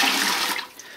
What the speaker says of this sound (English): Now I'll just fill this up with normal cold tap water into the fermenters.